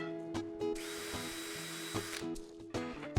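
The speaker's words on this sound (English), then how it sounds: "Drilling these pilot holes will give you reference on the other side" A power drill whirs steadily as it bores pilot holes into wooden side rails, with brief motor starts and stops at either end and a few clicks and knocks.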